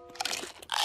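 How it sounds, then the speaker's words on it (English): In a cartoon, someone chews crunchy food quickly, making rapid, close crunching bursts that grow louder toward the end. "Don't eat so fast. Chew every bite."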